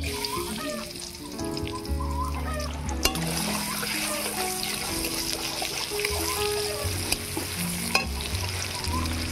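Chopped onion frying in oil with a dried red chili and nigella seeds, a close, steady sizzle with spatula stirring and light splatter, over a soft melodic music bed, with no talking.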